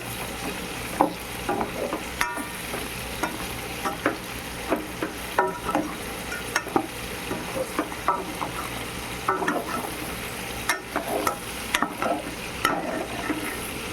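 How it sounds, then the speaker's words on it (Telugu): Chicken frying Rayalaseema style with garlic and spice powder, a steady sizzle under frequent rhythmic scraping and clinking of a spoon stirring in the pan, close and unbroken by talk. "ఇప్పుడు పొడి వేసుకొని కూడా కాసేపు ఫ్రై చేసుకున్నాను"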